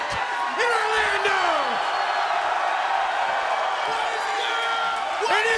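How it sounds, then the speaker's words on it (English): A large wrestling arena crowd at the Impact Zone in Orlando roars continuously in loud, sustained cheering, with whoops and shrill whistles rising above the din. "the Impact Zone is going absolutely nuts at the return of the Icon. Listen to this crowd."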